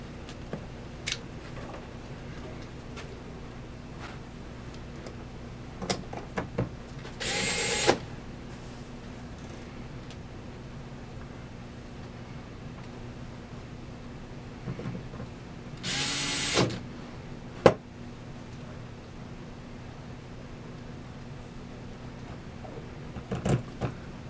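Screws being driven back into a Northwestern 60 vending mech during a quarter-to-fifty-cent conversion: two short bursts of a small driver whir, each a second or so long, with faint handling clicks in a quiet room.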